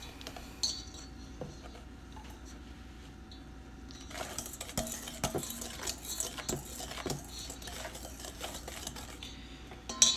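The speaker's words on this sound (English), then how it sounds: "Then after about 1 ladleful, I mix it around a bit more." Creme brulee custard is mixed with a ladle in a bowl, a quiet stretch followed by faint, irregular clinks and scrapes of metal against the dish.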